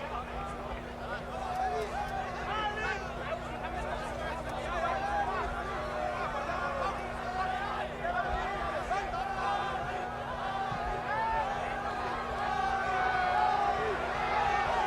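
A large, excited boxing crowd at ringside for a heavyweight title fight roars and chatters continuously, a dense distant wall of voices with scattered shouts and laughter, and a steady hum underneath.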